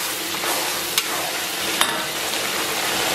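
A steady, loud sizzle of whole spices (star anise, cinnamon, bay leaves, angelica root, tsaoko, nutmeg, Sichuan pepper, sand ginger, fennel, galangal, gardenia) frying in a wok, with a couple of sharp stirring clicks and no talking.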